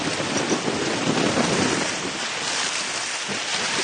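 Strong 23 mph wind buffets the microphone out on Bray Lake, a loud, steady broadband roar with gusty surges and water noise, continuous throughout with no one speaking.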